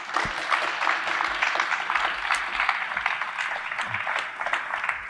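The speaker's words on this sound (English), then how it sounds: "Let's give him another round of applause" People gathered at a high school athletic signing ceremony give a round of applause, a moderate, continuous patter of many hands clapping without pause for several seconds.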